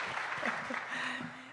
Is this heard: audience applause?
yes